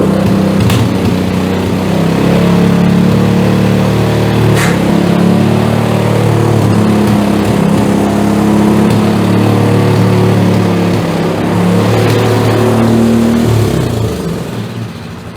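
A fairly new snowblower's small engine running warm after a pull start, loud and close with a steady droning hum and slight rises in pitch, continuous for the whole stretch.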